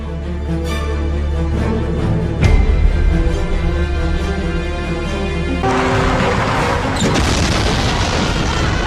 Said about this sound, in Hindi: लैंडमाइंस विस्फोट किए गए।